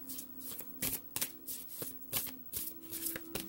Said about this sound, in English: let's pull a love card for you.